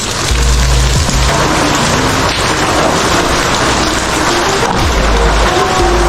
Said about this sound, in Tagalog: hinihintay ko pong tumigil ang ulan para magpakain ng manok pero hindi po tumigil lalo pang lumakas